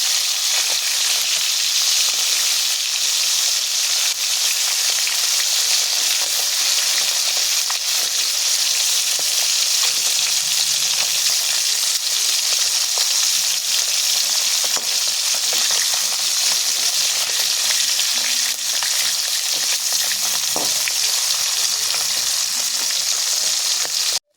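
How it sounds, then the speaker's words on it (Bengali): Lata fish frying in hot oil, a steady, dense sizzle and crackle running close and loud throughout, with occasional faint stirring sounds and no voices. "দেখো মাছগুলো লাল লাল করে ভেজে নিয়েছি, এবার আমি তুলে নেব।"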